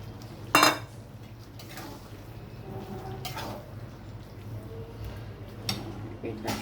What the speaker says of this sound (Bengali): এবার আমি এতে দিয়ে দিচ্ছি পনিরগুলো।